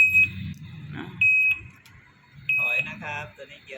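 An electric three-wheeler's reverse gear warning beeper sounds three short, steady high-pitched beeps at regular intervals over a low rumble, with someone talking between and under the beeps.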